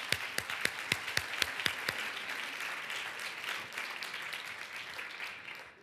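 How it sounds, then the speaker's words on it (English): Audience applause at a roundtable event on Latino law and policy: a few distinct claps open, then swell into steady, dense clapping from a crowd that fades slightly toward the end, with no voices. "One other applause for Tom"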